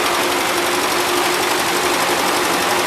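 A 1977 Gravely GMT 900 tractor engine runs steadily on old gas, giving a loud, close, continuous mechanical drone with a fast even beat and no pauses.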